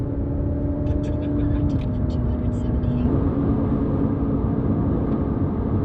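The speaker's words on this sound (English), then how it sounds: "First time ever driving a Ferrari." A Ferrari driven on the road gives a steady engine drone heard from inside, with gear-like pitch shifts partway through and faint voices over the hum.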